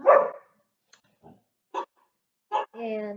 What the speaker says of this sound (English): And the dogs are speaking.